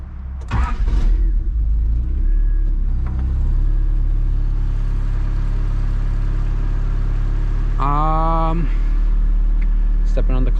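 Engine of a turbocharged wagon running after startup, a steady low rumble and idle drone filling the whole span, with brief higher mechanical whines and short clunks over it.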